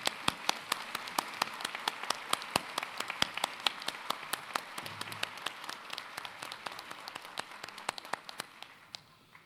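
A commencement ceremony crowd applauds with dense, steady clapping made of many sharp individual claps, held at a moderate distance and easing off slightly toward the end.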